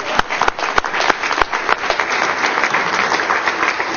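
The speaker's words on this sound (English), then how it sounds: "I think that's worthy of a clap." Applause breaks out at a Cherokee tribal council meeting, a few sharp separate claps near the microphone quickly joined by steady clapping from the room.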